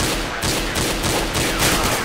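Rapid gunfire from the video game CS:GO in a competitive hostage match, dense bursts of shots and fusillade-like volleys running continuously and loudly throughout without pauses or speech.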